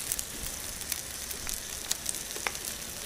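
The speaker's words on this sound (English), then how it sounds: "I'm going to add a nice generous portion of butter" Butter sizzling in a pan for a prawn curry, a steady soft crackle with scattered sharp pops and spits, fairly quiet and close.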